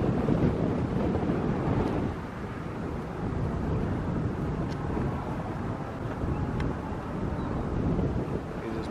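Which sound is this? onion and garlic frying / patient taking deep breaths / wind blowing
wind blowing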